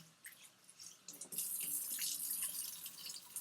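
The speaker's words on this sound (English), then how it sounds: "Run some water over it, kind of swish it out" Tap water runs into a sink while lamb's quarters greens are rinsed, starting as a light trickle and swelling into a steady, close hiss of flowing water.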